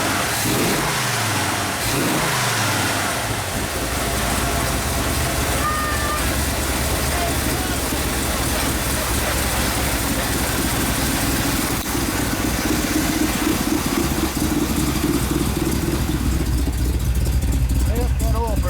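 A 1968 Chevrolet El Camino SS396 with a big-block engine cranks, starts and runs, a loud, continuous rumble with revving swells, recorded close by with people talking over it.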